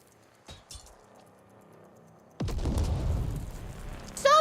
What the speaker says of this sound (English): Stop throwing grenades at me!